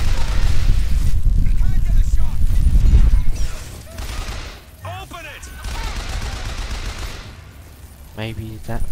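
Heavy gun firing in Bioshock Infinite: loud sustained volleys of shots roar over the first few seconds, then ease into quieter scattered combat noise with brief voices from the game.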